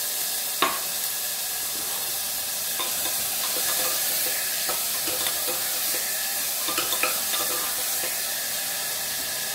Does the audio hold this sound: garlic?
yes